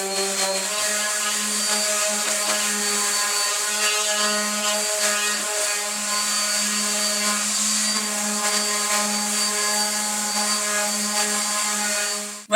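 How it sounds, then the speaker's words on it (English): A sander works on wooden birdhouse pieces with 120 grit sandpaper, a steady, loud, close motor whine with a rough abrasive hiss that runs unbroken and alone, no voices, ending abruptly. "we're just going to give the outside of these pieces a light sanding"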